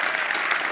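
Audience applause at a live space politics panel, a brief burst of dense, steady clapping from a crowd.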